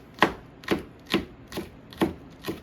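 A knife chops green onions steadily on a cutting board, six crisp taps evenly spaced about half a second apart, close and clear.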